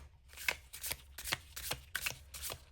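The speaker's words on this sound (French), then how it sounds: "C'est la première fois que je vais brasser des cartes avec un format comme ça." A deck of oracle cards being shuffled up close, with repeated crisp riffling bursts about every half second, steady and alone with no talking.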